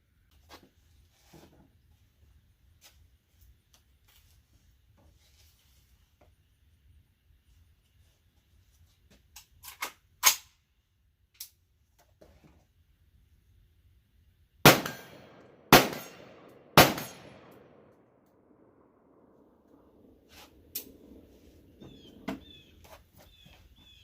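Shots from an ATI Omni Maxx Hybrid 10.5-inch AR-15 5.56 pistol ring against a 16-inch steel gong at 50 yards, a few sharp, spaced cracks with ringing tails amid quiet outdoor stretches.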